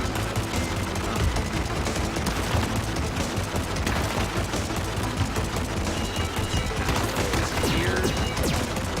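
Sustained rapid machine gun fire in the space game Vostok Inc., a dense, loud fusillade of shots continuing without pause, with no speech.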